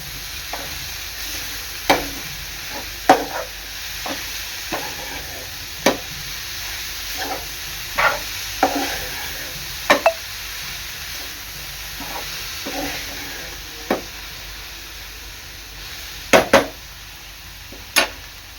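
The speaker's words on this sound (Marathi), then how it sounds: "आता यामध्ये आपण मेथी टाकायची आहे आणि चांगलं मिक्स करून घ्यायचं आहे" Fenugreek leaves frying with dried bombil fish in a pan give a steady low sizzle, broken every second or two by sharp scraping stir strokes, close up with no voices.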